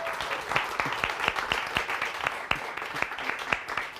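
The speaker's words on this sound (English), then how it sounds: "But let's have a round of applause for them." A crowd at a spoken-word and dance show claps for the dance crew, a steady round of applause with sharp individual claps standing out, close and lively, with no talking over it.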